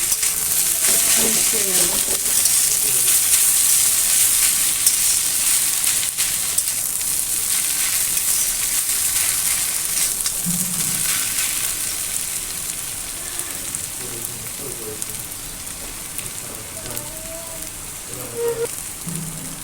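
Food is sautéed in a pan during Bengali home cooking, giving a steady, hissing sizzle with rain-like crackle that fades slightly over time and is broken by occasional soft clinks.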